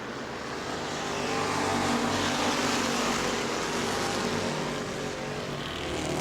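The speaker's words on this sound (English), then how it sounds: "Chuck Rush's car not sounding good as it came by that time" Race car with an engine that is not sounding good passing on an oval track at New Smyrna, a droning engine that swells as it approaches and fades, mid-distance, with no voices.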